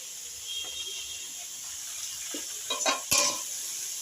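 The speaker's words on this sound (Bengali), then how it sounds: "এই দিয়ে নাড়াচাড়া করতে করতেই যখন ভাজা ভাজা হয়ে যাবে" Quiet, steady sizzle of onions and slit green chillies frying in a pan with salt and turmeric, with a few scraping stirs near the end.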